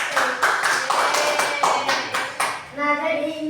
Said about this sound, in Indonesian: Beri aplaus teman dulu.